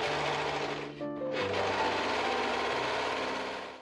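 A sewing machine runs steadily, stitching two fabric strips right sides together for a Renaissance dress seam, with a brief pause and mechanical whine near the start before the continuous close hum resumes.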